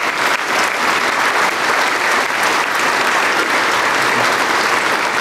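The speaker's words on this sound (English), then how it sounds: "So please give them a round of applause" Loud, continuous applause for the executive team at the Margaritaville opening, a thick wall of clapping from a crowd that stays steady for the full five seconds.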